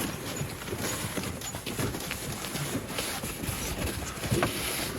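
Hooves of a draft horse clip-clop steadily at a walking pace, pulling a sleigh in winter, set in constant outdoor noise, moderately faint and somewhat distant.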